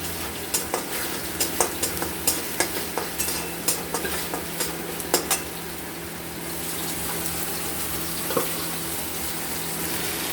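Chicken frying in a pan with turmeric, Kashmiri chilli powder and salt, a continuous sizzle and hiss under a steady run of sharp spatula taps and scrapes that fade out halfway, leaving the frying alone.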